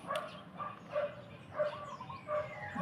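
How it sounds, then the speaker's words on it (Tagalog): Dogs bark from across the way near a house, a series of about five sharp barks spaced in a loose rhythm, moderately distant, with faint outdoor background between them. "Ang ingay ng mga aso sa kabila."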